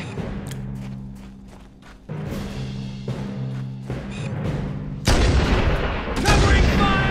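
Gunfire and explosions from Halo: Combat Evolved boom out in a loud battle, with repeated shots and a heavy blast, and voices shout through the din.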